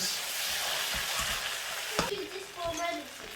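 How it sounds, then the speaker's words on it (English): Sweet red peppers sizzle in a frying pan while being stirred, a steady crackling hiss broken by a few scraping knocks of the utensil against the pan. "Some sweety red peppers. Give that a mix."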